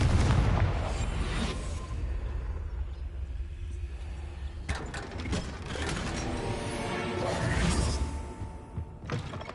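A Confringo fire spell bursts in Hogwarts Legacy, with a loud explosive boom at the start and a second blast midway, followed by rumbling, crackling debris and mechanical clatter, no talk.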